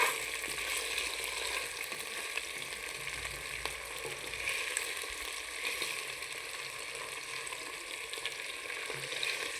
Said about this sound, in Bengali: আমি রাইস কুকারে মাছটা ভাজি করে ফেলছি